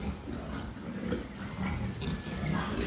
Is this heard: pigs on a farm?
yes